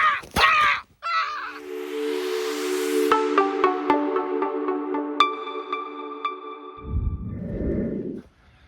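A crow caws in a few harsh, loud calls near a pond, perched on a fence beside a hawk, followed by a long sustained electronic-sounding tone and a rustle at the end.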